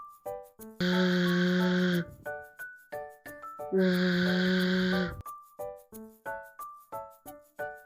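A voice imitates a flying fly with two long, loud, steady buzzing hums of about a second each, set among short rhythmic musical notes in a children's forest-themed lesson.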